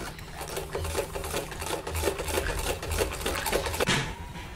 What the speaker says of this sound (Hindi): पहले हम साइड से ये हल्का सा कपड़ा टर्न मोड़ते हुए सिलाई लगाएंगे ताकि धागे वगैरह बाद में ना निकले।